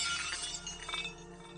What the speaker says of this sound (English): The sound of smashing glass filled the entire chamber.